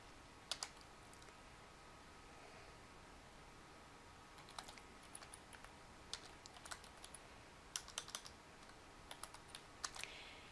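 Soft, scattered keyboard typing in short bursts of quick clicks against a quiet background hiss.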